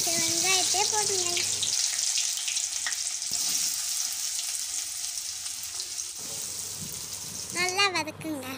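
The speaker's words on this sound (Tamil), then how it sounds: "எண்ணெய் சூடு வந்தோடனே நறுக்கி வச்ச வெங்காயத்தை போடுங்க." Steady broadband sizzling of chopped onions frying in hot oil, fairly close, with brief voices and clatter near the start and end.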